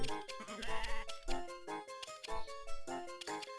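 Cartoonish sheep bleat in the farming video game Harvest Moon DS, a series of tuneful, wavering bleats mixed with bright game music, with no talk.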